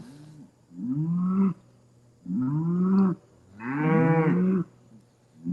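Cattle in a farm pasture lowing loudly and close, three long drawn-out moos separated by short pauses, the last one fuller and rougher.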